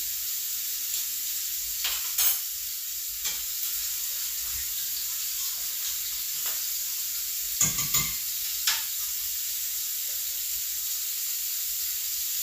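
Parmesan cheese is whisked into Alfredo sauce in batches in a pan: a soft continuous sizzle with scattered scraping clinks of the whisk against the pan, fairly quiet and with no talking.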